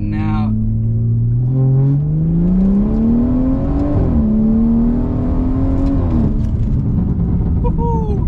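BMW 340i in Sport Plus mode accelerating hard, close-up engine tone climbing steadily through the gear as exhaust crackles and burbles pop in and out, a voice talking briefly over it.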